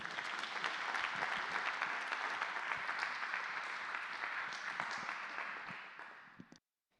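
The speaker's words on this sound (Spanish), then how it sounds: "Un aplauso" An audience applauding at an academic opening ceremony for student residences, a sustained, dense wash of many hands clapping that holds steady for several seconds, then tapers and cuts off abruptly.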